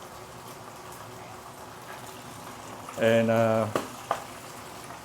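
Fish frying in a wide pan gives a steady crackling sizzle throughout, with a person speaking briefly over it midway and a small pop near the end.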